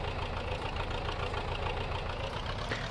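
A tractor engine in Farming Simulator 22 ploughing a vegetable garden plot, with a steady low diesel drone and a faint knocking rumble, continuous and even throughout.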